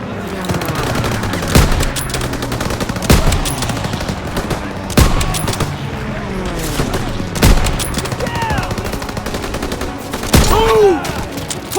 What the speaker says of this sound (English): الطلقة النارية